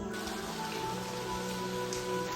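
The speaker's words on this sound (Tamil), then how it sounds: "இப்போ மறுபடியும் மழை பெய்ய ஆரம்பிச்சு" Steady rain falling outdoors with a dense, even patter of drops on surfaces, continuous and fairly close throughout, with no voices.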